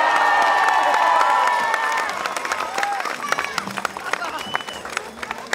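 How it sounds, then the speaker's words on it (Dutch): Outdoor crowd at a cyclocross race podium ceremony cheers and claps for the rider, loud whistles and shouts over dense applause that eases after two seconds into scattered claps and calls. "Graag uw applaus voor Klaas van Torno"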